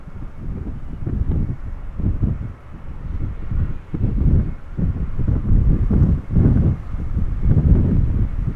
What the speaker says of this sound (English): With the wind over here,